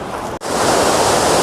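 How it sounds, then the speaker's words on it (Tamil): Rushing water roars loud and steady at the top of a waterfall in Kodaikanal, with a broad constant hiss and a brief drop-out near the start. "ஃபால்ஸுடைய டாப் வியூக்கு வந்துட்டோம். தண்ணி அடிச்சுக்கிட்டு போகுது."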